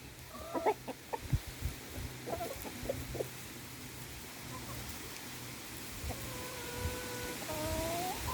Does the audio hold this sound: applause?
no